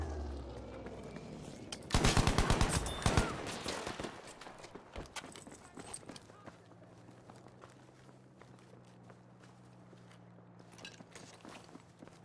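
Artillery and gunfire in Battlefield V: a dense burst of loud shots and impacts around the two-second mark, followed by scattered cracks and rumbling that fade into a low engine-like drone.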